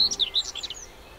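Several birds sing at dawn, claiming territory with quick, high chirps and rising and falling whistled notes in short bursts, close and clear over a quiet background, fading out after a second.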